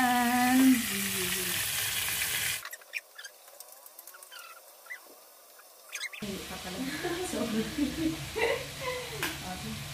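Food frying in a home kitchen pan gives a loud bright sizzle at the start, then a quieter stretch of scraping and clinking before crackling and stirring pick up again, with a voice talking over parts of it.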